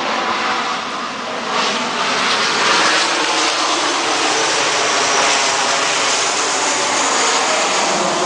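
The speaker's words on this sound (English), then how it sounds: "Sorry about the plane, I live by an airport." An airplane flies low overhead near an airport, a loud, continuous broadband roar that holds steady for several seconds with no voices.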